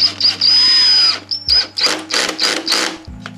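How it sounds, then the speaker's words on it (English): Power drill on a low clutch setting drives a screw into drywall in a garage, a close whirring run followed by several short bursts as the screw seats, loud and without talk. "demonstrate putting a screw in"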